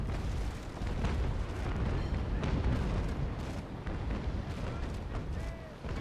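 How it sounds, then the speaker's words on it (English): Carronade cannons firing during a ship-of-the-line battle in the naval game Naval Action, a dense rumbling barrage of booms rolling together over several seconds, loud and continuous. "And let my stern carronades finish the job"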